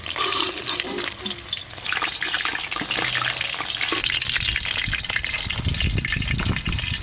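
Rupchanda pomfret fish fry in oil in a large wok, giving a steady, close, busy sizzle with bursts of spattering and stirring noise, and no talk.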